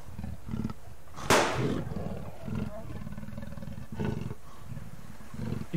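A big cat roars loudly in the survival video game Subsistence, with one sharp burst followed by lower growls, while someone talks over the game sounds.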